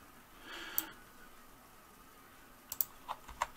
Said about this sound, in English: I'm clicking on it and I'm pressing the down arrow on my keyboard